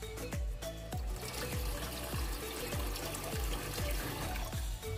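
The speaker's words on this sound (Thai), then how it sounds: "เมื่อเราได้น้ำร้อนจากการต้มมาแล้วเราจะต้องมาผสมน้ำเปล่าอีกหน่อยครับ" Plain water poured into boiled hot water, splashing and trickling steadily with repeated gurgling glugs, close and moderately quiet, no talking.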